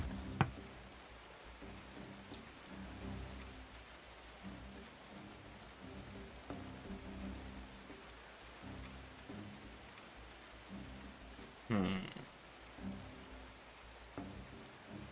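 Rain falls in the video game Going Medieval, a faint, steady patter with scattered ticks and one louder splash, heard alone and at low volume.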